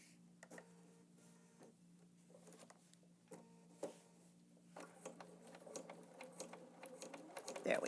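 A sewing machine stitches a separating zipper into a garment, with a low motor drone and irregular ticking needle strokes that grow busier toward the end, fairly quiet and close with no speech.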